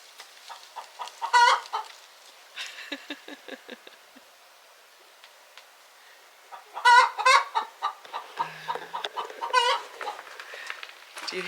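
A hen in a nesting box clucks and cackles in several bursts, with short quiet gaps between them, close by and fairly loud against an otherwise quiet background, with no talking.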